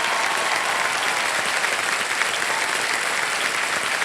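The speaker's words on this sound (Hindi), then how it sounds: "तालियां बजती रहे जसमीन जी के लिए" A quiz show studio audience claps for a contestant in a dense, unbroken wash of applause that holds at a constant loud level, with no voices over it.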